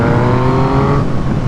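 A Yamaha MT-09 with a 115-horsepower three-cylinder crossplane engine revs loudly and close by as it accelerates, giving a steady, strong engine drone with no talk.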